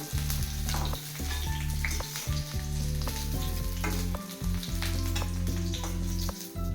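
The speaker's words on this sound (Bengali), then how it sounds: "ফুলকপিগুলোকে ভালো করে ভেজে নেব" Cauliflower florets fry in oil in a pan, giving a continuous close sizzle with stirring noises that rise and dip briefly. A steady tonal hum runs underneath, and no voices are heard.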